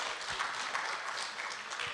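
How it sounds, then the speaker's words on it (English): Audience applause for a panel at a premier's media and stakeholder engagement, a brief, soft, even patter of many hands clapping at some distance. "Let's give them a round of applause,"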